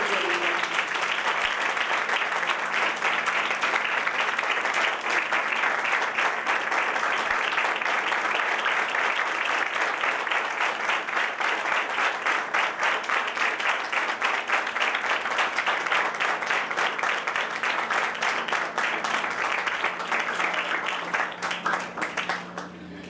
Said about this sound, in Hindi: सब जगह जोरदार तालियों को बजाइए।